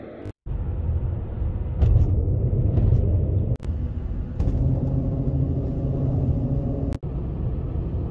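A car driving along a scenic road, heard from inside as a steady low engine and road rumble with a few brief dropouts and thumps.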